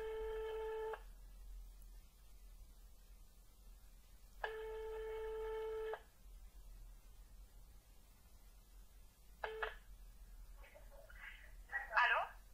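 A telephone ringing on a call: two long ring tones, then a short one, each separated by silence with faint line hiss, followed by a brief burst of muffled sound at the end.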